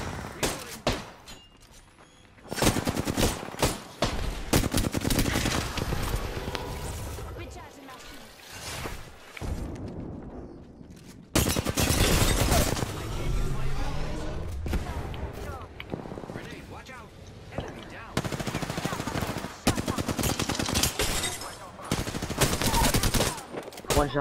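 Automatic Flatline rifle fire in the battle royale game Apex Legends, loud rapid bursts repeating across the clip with short pauses between volleys and a voice talking over parts of it.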